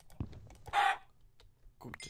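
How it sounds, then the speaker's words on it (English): Minecraft chickens cluck in short bursts close by, one louder squawk in the middle and softer clucks around it, with no voices. "Okay, the chickens are doing my head in now."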